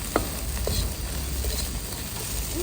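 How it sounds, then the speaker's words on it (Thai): Pla daek fermented fish dry-fried in a pan with a little water, giving a steady sizzle and occasional scraping stir, close and continuous. "ทุกคนเอาปลาแดกมาโอ๊ะให้มันแห้ง ๆ"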